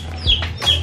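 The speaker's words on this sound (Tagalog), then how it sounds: "Yung manok." A chicken at a hilltop resort in Tagaytay overlooking Taal Lake clucks twice in quick, close, nasal bursts over a steady low hum of background ambience.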